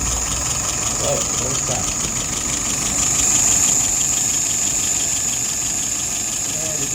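A carbureted engine runs at a steady idle after its float has been adjusted, a constant close mechanical hum with a high whine on top, while someone speaks briefly over it.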